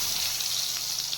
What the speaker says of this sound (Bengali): এবার কেটে রাখা আলুগুলো ফ্রাই করে নেব।